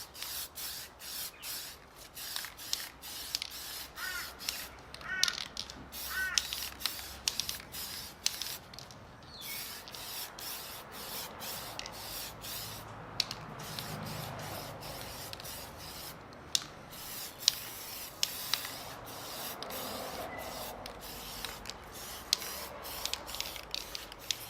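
Clear coat paint hisses from a spray can in a run of short and longer bursts, close and fairly loud, with rubbing and handling noises between sprays and no talk.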